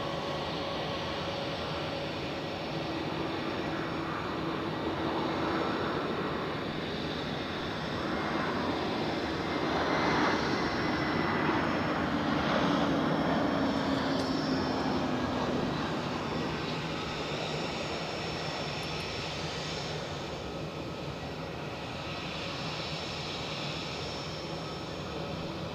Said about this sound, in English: Lufthansa on final approach. A321, not a Neo,